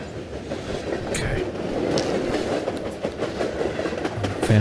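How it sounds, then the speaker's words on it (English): Train sound effect in the video game Into the Radius, a continuous rumbling roll with rhythmic clickety-clack of wheels, loud and steady with no voices. "Can you turn the train sound effect down, please?"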